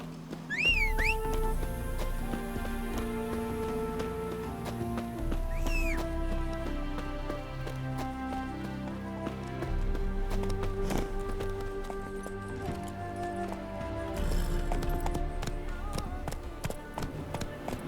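Horse hooves clip-clop steadily in a gallop while riding in The Witcher 3: Wild Hunt, set under loud continuous orchestral game music with a few whistle-like tones.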